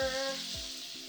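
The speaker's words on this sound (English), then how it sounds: "we're gonna hit it with that fresh lemon juice." Fresh lemon juice hits a hot cast iron skillet with butter during lamb chop cooking, producing a loud, steady close-up sizzle with a few brief scraping stirs.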